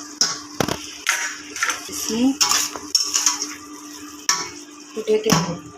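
Metal spoon scraping and clinking against a cooking pan while spice paste is stirred and fried, with irregular close scrapes and knocks over a faint steady sizzle.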